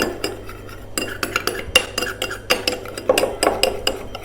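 Aloe vera gel and the contents of two capsules being stirred into a paste in a bowl, a spoon clinking and scraping against the sides in steady, close strokes with no talking.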